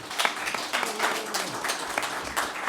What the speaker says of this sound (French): on va pouvoir applaudir l'INRIA